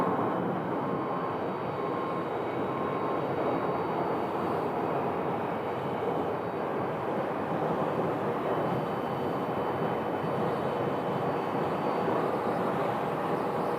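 An airliner touching down on the runway at Phoenix Sky Harbor Airport, heard as a steady, fairly faint broadband roar that holds evenly throughout with no voices.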